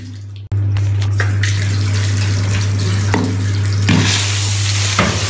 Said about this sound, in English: so the water's spilling